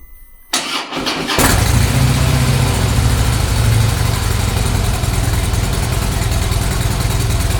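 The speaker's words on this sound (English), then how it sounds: "That's how you get your bike running without a key fob" A Harley motorcycle engine cranks briefly, catches and settles into a loud, steady idle with a low, even rumble that continues close by to the end, with no talk.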